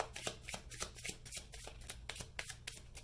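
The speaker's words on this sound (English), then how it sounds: "All right, so I will shuffle one more time." Tarot cards shuffled by hand in quick repeated riffles, each a crisp papery flutter in an even rhythm, close and soft, with no talking.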